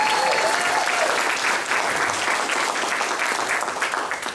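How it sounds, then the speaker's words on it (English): Sustained audience applause at a campaign kickoff event, a dense steady wash of many hands clapping together for over four seconds, loud and fairly even throughout before easing slightly at the end. "Another big round of applause."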